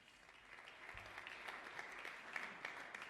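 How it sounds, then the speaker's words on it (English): Audience applause at an awards ceremony, a soft, distant and fairly steady patter of clapping with a low thump near the start. "A round of applause to all of them"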